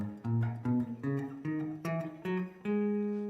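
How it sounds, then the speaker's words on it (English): A natural minor scale played note by note on bass guitar, about eight plucked notes in an even, steady rhythm climbing upward, the last one ringing out longer, close and clear with no talking. "the natural minor scale looks like this"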